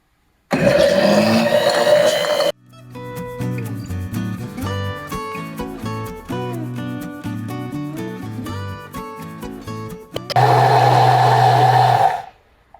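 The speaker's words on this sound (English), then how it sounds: "Alright, so we blend that for about a minute." A blender whirs loudly while blending a basil garlic aioli, in two roughly two-second bursts separated by a stretch of music.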